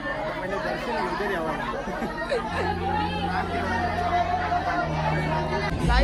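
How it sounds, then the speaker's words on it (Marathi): Dense crowd chatter fills a packed village temple courtyard on Nag Panchami, a steady babble of many overlapping voices with a low hum underneath, close and continuous throughout. "लय गर्दी लय गर्दी."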